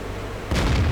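Firefly tank gun firing in a video game, one sudden heavy boom cutting in halfway through after a low engine rumble.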